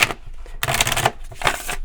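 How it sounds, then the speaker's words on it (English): Tarot cards are riffled and shuffled in two quick rustling bursts close by, with no talking. "having a rough go at the shuffling the cards"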